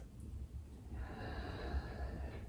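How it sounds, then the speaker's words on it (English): A single deep, audible breath taken during a yoga class, a close, breathy inhale with a slight throaty rasp that swells midway and holds, with no talking. "Close your eyes and start to deepen your breath."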